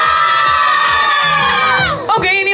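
A large crowd of children at the Toverland theme park yells a team chant together, loud and sustained with overlapping voices and a brief dip before the shouting surges again.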